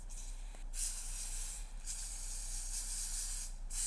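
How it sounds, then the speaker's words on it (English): Several short bursts of oil spray hiss onto tart tins in a kitchen, soft and close, separated by brief pauses. "just spray my tart tins with some oil"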